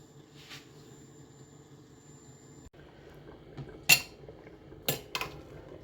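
A metal lid is set on a cooking pot of boiling rice on a high flame in a home kitchen, giving a couple of short, sharp clanks after a steady low hiss.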